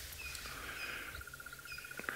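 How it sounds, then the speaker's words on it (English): Birds call outdoors on a safari live stream, with a crested barbet among them: a fast, steady trill runs through most of the moment alongside brief higher chirps, fairly faint over quiet background ambience. "we can hear some lovely birds calling as well."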